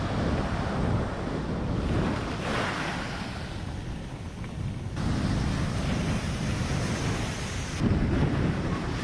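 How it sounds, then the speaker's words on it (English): Huge storm-driven waves pound the West Bengal coastline as Cyclone Yas nears, a dense, continuous crashing roar with heavy wind rumble and surges that swell and recede. "Huge waves strike the coast of West Bengal as Cyclone Yas approaches, destroying seaside walkways."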